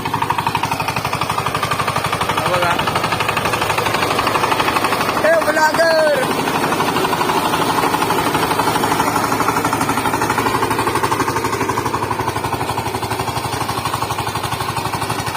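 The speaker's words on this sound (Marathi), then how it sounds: "आता वैष्णव ट्रॅक्टर चालवता तुमका दाखवतोय मी" A tractor drives through a field during the rainy planting season, its engine a steady, loud, continuous rumble with a rough mechanical rattle. A voice speaks briefly over the engine.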